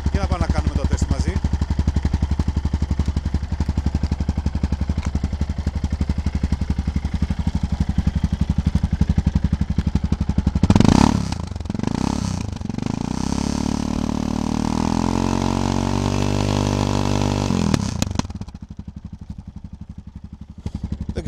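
A motorcycle engine idles with a steady, loud exhaust throb, then is revved up toward 3,000 rpm for an exhaust noise test, rising sharply before settling back to idle and cutting off near the end.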